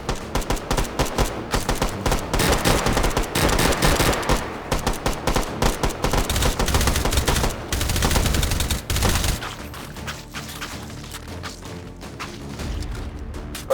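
Sustained rapid automatic gunfire from a gun firing rocket-motor bullets in H3VR, loud and dense for about nine seconds. Quieter scattered shots and mechanical clatter follow.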